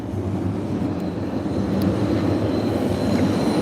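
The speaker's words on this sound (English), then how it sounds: "The subway's down here. You can hear the train going by." An underground subway train in downtown Chicago rumbles past beneath the street, a loud continuous low roar that holds steady and swells slightly, with no talk over it.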